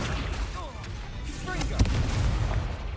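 A fire spell bursts in the video game Hogwarts Legacy with a loud whooshing, crackling boom rising to a sharp impact, followed by rumbling over game ambience and a faint voice.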